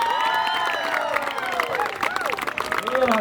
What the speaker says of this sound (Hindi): जोरदार अभिवादन करेंगे उनका तालियों से।